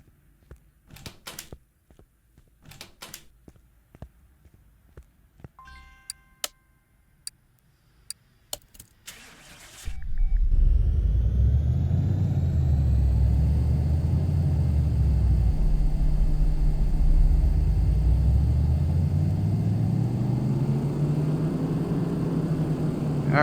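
Car engine spinning up and running hard on a dyno in Car Mechanic Simulator 2018, a sudden loud start after scattered clicks, then a sustained droning roar with rising and falling revs.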